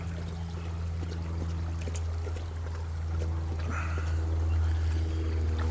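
Running water from a small creek flows steadily, a soft continuous trickle and wash close by with a low rumble underneath and no talking.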